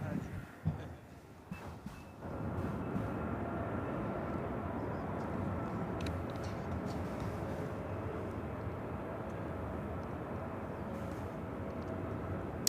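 A KLM Boeing 787-10 Dreamliner takes off at LAX, bound for Amsterdam, its jet engines building into a steady broad roar that holds at moderate distance after a few faint knocks at the start.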